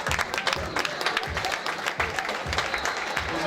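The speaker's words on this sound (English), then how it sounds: "Let's give a hand clap." Audience clapping at a boxing banquet, a brisk round of applause with individual claps distinct and uneven, moderately loud, with a voice or cheer breaking through now and then.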